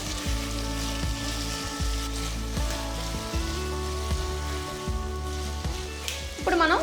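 Chopped tomatoes in a sizzling pan for a one-pot black chickpea pulao give a steady, close frying crackle with low rumbling tones underneath and a brief clatter near the end.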